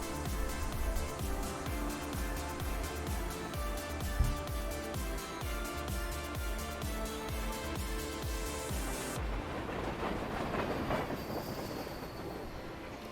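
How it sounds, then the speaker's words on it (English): A train rolls past in a driving video game, a dense rhythmic clatter of wheels over track joints that holds steady and then fades into a broader rumble, with no talking. "Honestly expected a larger train."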